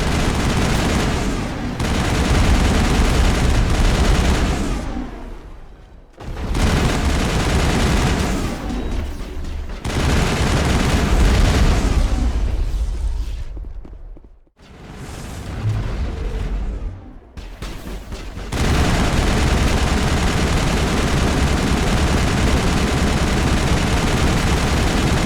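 Crossfire in Mass Effect 1 brings sustained, loud gunfire and booming explosions that roar almost nonstop, broken by a few brief lulls before the barrage picks up again.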